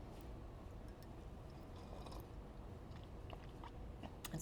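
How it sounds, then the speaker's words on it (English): Soft, close slurps and gulps of tea sound against a steady background murmur, with small wet mouth clicks scattered through and no speech. "I know with the microphone, you guys can hear like every slurp,"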